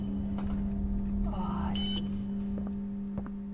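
Electronic beeping inside the Poppy Playtime Chapter 2 video game, a brief tonal chirp over a steady low hum and game ambience while people talk over it.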